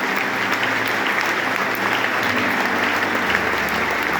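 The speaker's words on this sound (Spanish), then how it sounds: "Mándenles desde ya un aplauso a Daniel y a Claudia" Church congregation gives loud, sustained applause, a dense wash of many hands clapping steadily and evenly from start to finish.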